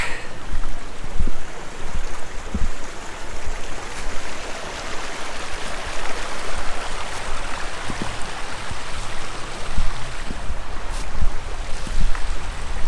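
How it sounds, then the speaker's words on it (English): Wind picks up outdoors at dusk during a turkey hunt, a loud, steady rushing roar with swelling gusts and occasional faint knocks beneath it. "Wind's starting to pick up."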